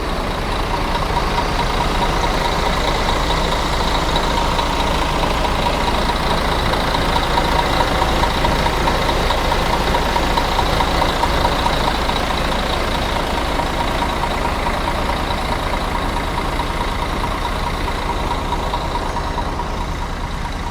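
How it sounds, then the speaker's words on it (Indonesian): A heavy diesel bus engine idles close by at a roadside, a steady loud rumble with a rough, throbbing texture that holds unchanged throughout, with no voices. "Diesel banget suara mesinnya."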